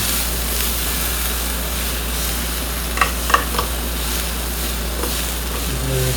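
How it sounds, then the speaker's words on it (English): Burnt bits scraped off a hot frying pan after cooking steak, with a steady sizzle throughout and a few sharp scraping strokes near the middle. "scrape off some of the burnt stuff because you don't want that in your food."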